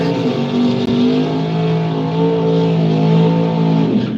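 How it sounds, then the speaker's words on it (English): A drag racing car revs hard at the start line, a loud, steady engine roar with a continuous rumble that holds for several seconds, close and with no voices. "That is a good sounding motorized vehicle"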